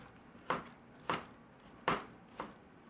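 Onions chopped with a knife on a cutting board: four distinct, fairly close chops spaced about half a second apart, with nothing else heard.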